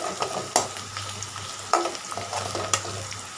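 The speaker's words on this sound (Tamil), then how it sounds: "வெங்காயம் வதங்கின வாசனை, இஞ்சி பூண்டெல்லாம் சேர்த்து வதக்கிருக்கோம்" Onion, ginger and garlic sauté in a hot pan, a continuous oily sizzle broken by several sharp spatula scrapes and clacks at irregular intervals, close and moderately loud, with no talking.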